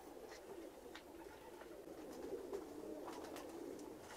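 Pigeons, breeding birds offered for sale, coo softly and repeatedly in low rolling calls, with faint flutters and ticks around them, heard close but at low volume against a quiet background.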